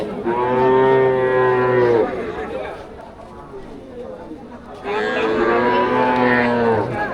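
Cattle, bulls and heifers, at a village cow market in Napiter Char, giving two long, loud, drawn-out moos close by, separated by a few seconds of quieter market background.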